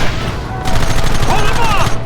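Rapid volleys of gunshots crackle through a Red Dead Redemption battle against attackers hiding behind rocks, a dense fusillade that swells after a brief pause and keeps firing, with shouted voices mixed in.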